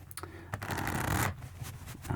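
A brisk riffle of playing cards being shuffled, a dense papery flutter building for about a second, followed by a few lighter taps and rustles.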